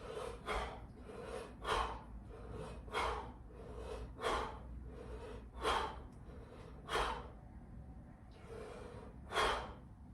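Heavy, forceful breaths during a strengthening breathing exercise come in about eight loud, rasping bursts spaced roughly a second apart, close and alone with no speech.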